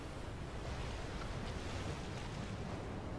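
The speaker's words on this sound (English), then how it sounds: "The ship is crashing through 6-meter waves." Rough North Atlantic seas of about six-metre waves pound around the Queen Mary 2 ocean liner, a dense, unbroken roar of surf and gusting wind buffeting the microphone throughout.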